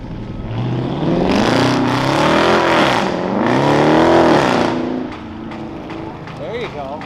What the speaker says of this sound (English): Oh no, it's a GTR!